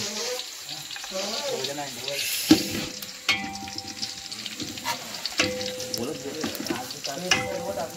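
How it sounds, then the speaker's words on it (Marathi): Chicken dropped into hot tempering oil, a soft constant sizzle and crackle with scraping stirring clatter and a few sharp knocks, fairly faint and close, with occasional background voices. "चिकन आता फोडणी देत आहेत."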